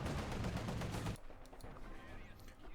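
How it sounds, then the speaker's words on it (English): Panzerfaust fired at a T-70 light tank in Company of Heroes 2: a loud, dense burst of blast and gunfire lasting about a second, then cutting to quieter scattered battle noise and faint distant shots. "Panzerfaust on the T-70."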